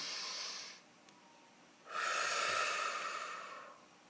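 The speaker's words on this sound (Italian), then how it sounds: "facciamo un bel respiro profondo" One deep breath taken close to the microphone: a soft airy inhale, a short pause, then a longer, fuller exhale that slowly fades.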